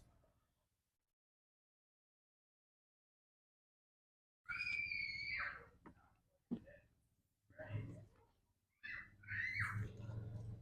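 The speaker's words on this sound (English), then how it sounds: "you may hear the little girl screaming across the fence there" A little girl screams from across a backyard fence in several high, piercing bursts with pauses between, moderately loud and alone after a stretch of silence.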